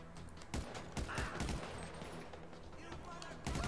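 Gunfire from a shootout in a parking lot in the video game GTA V Online: sharp bursts of shots crack out in clusters, near and fairly loud, with a fainter rattling tail between volleys.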